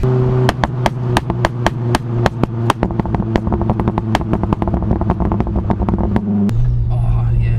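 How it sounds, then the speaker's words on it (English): A Ford Focus RS MK1 engine, running high boost, fires off a rapid string of loud, close pops and bangs over its idle, with someone talking briefly alongside. "I hope the GoPro is picking up all them little pops and bangs."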